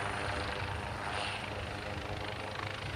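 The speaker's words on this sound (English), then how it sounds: "It's a 6-ton helicopter developed with high mission flexibility by Turkish Aerospace" Turkish Aerospace twin-turboshaft 6-ton helicopter flying at Farnborough International Airshow, a steady broad rotor and turbine roar heard from a distance, continuous and unbroken with no voices.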